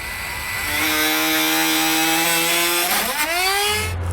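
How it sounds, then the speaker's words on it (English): A rotary tool cuts into a plastic trim panel while fitting a trailer hitch to a 2019 Toyota Highlander, a loud steady high whine that dips and bogs in pitch as it bites the plastic. "I'm going to be using a rotary tool just to make it a little quicker and a little bit cleaner cuts."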